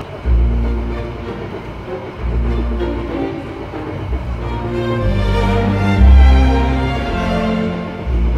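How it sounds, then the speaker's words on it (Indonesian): A Tivre-class locomotive horn sounds loud and close on an Indonesian economy train near Pasuruan, a long sustained low blare over continuous rumbling carriage noise, swelling toward the end. "Dari sini terdengar ini ya, klakson lokomotifnya ya, khas Tivre banget"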